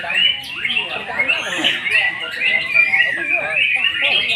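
A white-rumped shama, a pastol-type murai batu, sings loudly and close in a continuous stream of varied whistles, chirps and rapid trills.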